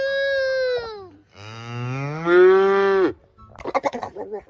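A farm cow lows in two long, drawn-out moos that rise and fall in pitch, close and fairly loud, followed by a short burst of snuffling and rustling.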